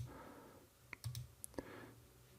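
A computer mouse gives a few sharp, quiet clicks, spaced irregularly over a faint background hiss.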